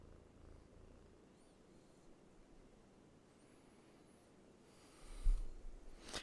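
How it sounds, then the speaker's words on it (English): A cat purrs near a microphone, a soft, low, steady rumble at close range in a quiet room, ending with a louder bump and rustle of handling. "We're trying to get the purry cat down the microphone."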